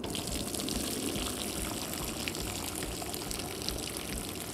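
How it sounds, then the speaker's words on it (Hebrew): Cooked pasta water draining from a covered pot, a steady full rush of pouring liquid running without pause, close and loud, with no talk. "אני מכסה ואני מסנן את זה ומשאיר מעט מים בתוך הסיר."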